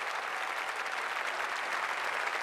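Delighted Irish audience applauding the Irish team at a K Club golf event, a steady dense wash of clapping from a large crowd throughout, fairly distant and even in level.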